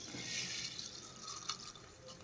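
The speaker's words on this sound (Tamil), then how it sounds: "நம்ம நல்லெண்ணெய் ஊற்றிக்கலாம் கால் லிட்டர்" Sesame oil poured into a pan for gooseberry pickle, a soft continuous liquid trickle with faint drips, quiet and steady with a small splash near the end.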